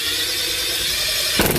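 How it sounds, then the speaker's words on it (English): An impact wrench fitted with an impact driver bit whirs steadily at close range, then breaks into rapid hammering impacts near the end. "I just turned my impact wrench into a sweet, sweet impact driver"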